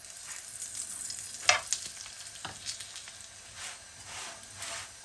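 Egg paratha cooking in ghee on a pan: a soft, continuous sizzling hiss at close range with a couple of brief scraping touches, no voices.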